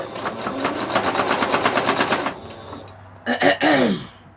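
A sewing machine stitches around the edge of a crocheted quilt, a rapid, even mechanical rattle that runs for a couple of seconds and then stops, followed by a few brief vocal sounds.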